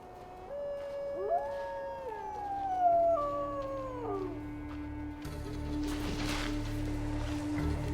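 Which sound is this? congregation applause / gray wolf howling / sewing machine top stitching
gray wolf howling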